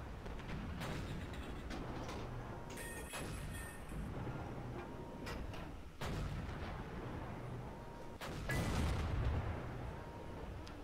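Heavy cannon shots from a T-34-3 tank in a tank video game, several sharp booming reports spaced a few seconds apart over mechanical clanks and engine rumble.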